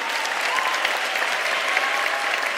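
Dense, sustained audience applause at a University of South Africa spring graduation ceremony in 2025, a loud, even wash of many hands clapping with no pauses.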